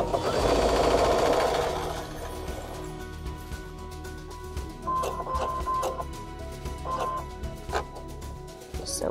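A sewing machine stitches a mitered quilt border corner up to a pin, then backstitches; a busy, steady mechanical whir, loudest at the start, with short bursts and pauses as the seam is finished.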